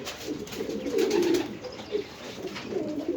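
Pigeons nesting inside lockers give soft, low, repeated coos, close by and fairly quiet against a faint background hiss.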